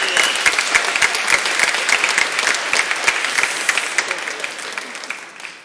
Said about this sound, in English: So as the women applaud,